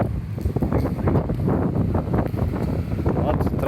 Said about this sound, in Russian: какой ветер тут хороший